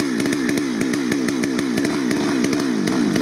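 A chainsaw saws through wood outdoors, loud and close, its engine roaring continuously with rapid rhythmic pulses as the chain bites into the log. No one talks.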